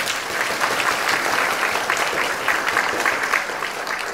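Sustained audience applause fills a formal Taiwanese public-service awards ceremony, a dense, steady wash of clapping from a large crowd that holds at even loudness throughout, with no speech over it.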